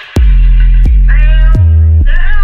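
Deep, booming bass notes hit hard in a slow rhythm, each one thick and sustained with a bright synth line drifting above, loud and close.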